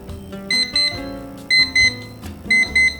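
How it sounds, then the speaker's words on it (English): A Pomodoro countdown timer rings when it finishes, sounding three loud, evenly spaced bursts of electronic double beeps, each pair bright and piercing, over a steady hum. "you can actually like set the timer to 3 minutes, and the thing begins to count down"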